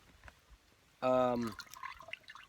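Muddy water running through a two-layer cloth bag used as a filter, a short trickling pour that breaks into scattered drips, close and quiet with faint background noise.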